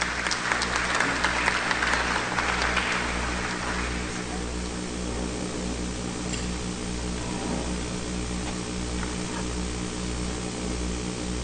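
Audience applause at an international forum on state reform, a broad wash of clapping in the first few seconds that fades into steady low machinery hum and room noise.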